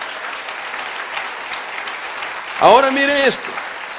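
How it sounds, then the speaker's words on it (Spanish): Congregation clapping for the Lord during a Spanish-language church service, a steady broadband patter of many hands filling the clip, with a voice speaking briefly over it near the end. "dele palmas al Señor de la gloria"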